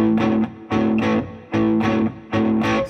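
An electric guitar plays a blues shuffle riff in A on open strings, with slightly distorted chords in a steady triplet swing of repeated two-part phrases, close and clear with no talking.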